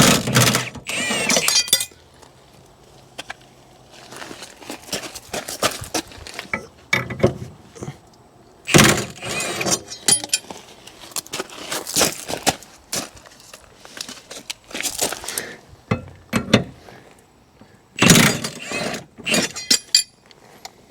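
A 15/16 impact wrench rips the blade nuts off an Ariens Ikon XD 52-inch mower in several loud, close, rattling bursts, with quieter clinks and handling noises between them.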